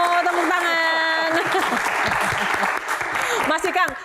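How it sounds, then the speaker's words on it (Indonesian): Studio applause greeting two guests on an Indonesian talk show, a thick spread of clapping beneath a sustained musical tone and voices, with people talking over it toward the end. "Tepuk tangan."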